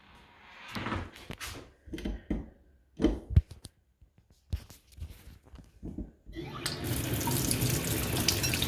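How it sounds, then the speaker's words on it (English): A kitchen sink tap runs hot and then cold water that drains away, with intermittent clunks and handling noises before a loud, steady gush of running water fills the last seconds. "Hot water, it's draining fine, and cold, fine."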